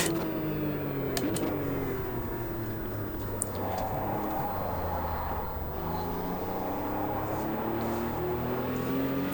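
A race car engine in the Automobilista 2 racing game revs and shifts through gears on a circuit, a loud continuous whine rising and falling with acceleration and braking, heard alone without talk throughout.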